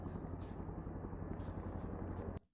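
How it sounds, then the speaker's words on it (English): Military helicopters including a Chinook fly over Denver, a faint, distant steady rotor drone with a soft low throb, cut off abruptly at the end. "And there's like a whole squad of helicopters."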